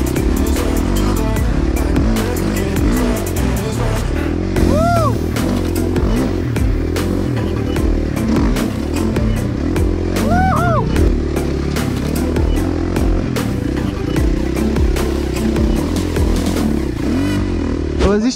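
A motocross motorcycle engine runs loud and close on a dirt practice session, holding a steady roar with throttle surges; people talk over it at moments.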